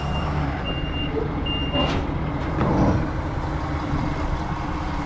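A truck pulls away at a residential gas tank removal site, its engine rumbling steadily with a reversing beeper chirping intermittently early on, moderately close and without talk.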